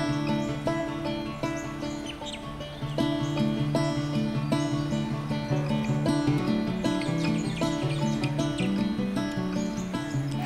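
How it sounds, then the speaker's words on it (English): Many birds call and chirp together in a busy chorus in the Australian bush, repeated tonal whistles and trills layered over one another, fairly close and continuous. "How good does the Australian bush sound? Those birds, animals, just noises"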